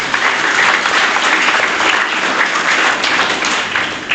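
A congregation at a worship service claps for God, a loud, dense and continuous roar of many hands that holds steady from start to finish.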